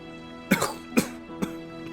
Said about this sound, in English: He coughs up blood.